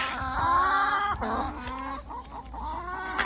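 Bresse chickens cluck and squawk busily while being fed, several birds calling close by in overlapping bursts throughout with no talk.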